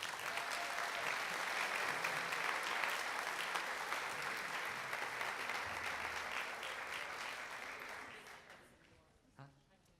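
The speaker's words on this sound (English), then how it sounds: "And just one more round of applause for our students." An audience gives sustained applause for eighth grade band students at a middle school concert, dense and steady for about eight seconds before fading away, with a few voices at the end.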